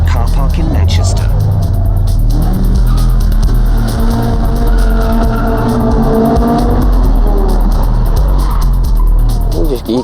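Cars rev loudly at an underground street race meet in a Manchester car park, engines roaring continuously with tyre squeal and skidding, while people talk over the din.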